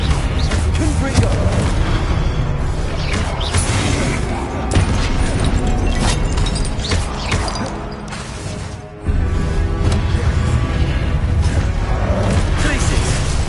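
Repeated fire-blast spell explosions in the video game Hogwarts Legacy, loud booming bursts layered densely with game music and effects, briefly dipping near the end before resuming.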